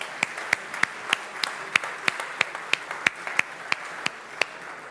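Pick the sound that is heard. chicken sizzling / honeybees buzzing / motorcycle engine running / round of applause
round of applause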